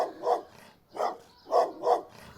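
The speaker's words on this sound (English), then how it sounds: "The dog barked, heading towards Grandma's house." A dog gives four loud, close barks, one on its own and then three in quicker succession.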